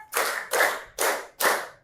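Four sharp group hand claps in a classroom counting game, evenly spaced about half a second apart, close and crisp with no talking.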